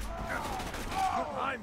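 Rapid gunfire crackles in the Borderlands 2 video game during co-op play, a brief burst of shots at moderate volume mixed with game effects and a player's voice.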